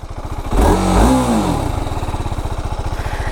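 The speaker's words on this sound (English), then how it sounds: "bike exhaust note is much greater, guys" A 2025 TVS Apache RR 310 motorcycle engine revs up loudly nearby, then settles into a steady, throbbing exhaust idle with a rapid, regular pulse.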